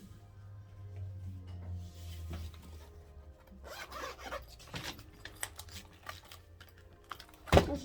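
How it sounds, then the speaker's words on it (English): Paper fed through a quick flourish embossing folder in a die-cut machine makes quiet scraping, grinding and rubbing at close range, with scattered clicks and a sharp knock near the end. "I'm going to run this through with my embossing folder"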